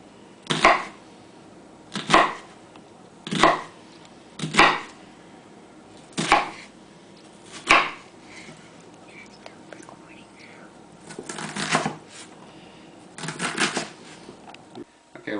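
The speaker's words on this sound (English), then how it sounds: "We've got everything diced up." Knife chopping tomatoes, peppers, onions and garlic on a board: six sharp, evenly spaced cuts, then a couple of rougher bursts of dicing, close and fairly loud with quiet gaps between.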